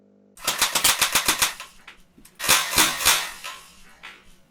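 A homemade Kinect-guided automatic sentry turret fires at an intruder in two loud bursts of rapid, sharp shots, about eight in quick succession, a brief pause, then another volley of several.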